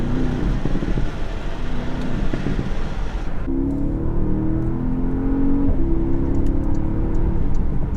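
A Porsche Panamera driven at night gives a steady engine drone that drops sharply when the throttle lifts, followed by a lower humming cruise with a few faint, scattered pops.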